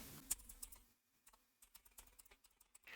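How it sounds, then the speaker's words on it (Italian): Quiet, close-up typing on a computer keyboard as an email address is entered: irregular light clicks and taps in short bursts, with a brief pause near the start. "Digitiamo come prima cosa il nostro indirizzo di posta."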